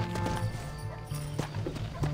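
Horse hooves clip-clop in the video game Red Dead Redemption, a short burst of steady hoofbeats over a low musical drone, with faint voices nearby.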